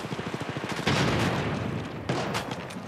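Gunfire in the video game Apex Legends: rapid automatic bursts rattle at first, followed by heavier booming shots, loud and dense with no talk over them.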